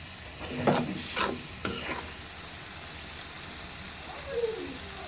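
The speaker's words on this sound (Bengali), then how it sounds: "এখন এটা কষায় নেব" Loitta shutki (dried Bombay duck) sautés in a pan with salt and ginger-garlic paste, giving a continuous sizzle broken by three or four scraping stir strokes early on and another near the end.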